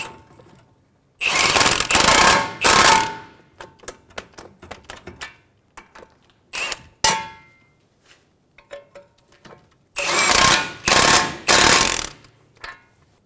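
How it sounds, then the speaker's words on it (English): An impact wrench tightening steering knuckle bolts on a 2003-2008 Honda Pilot during a front wheel bearing replacement, several loud rattling bursts separated by quiet pauses and small clicks of tools nearby. "Tighten the bolts for the knuckle."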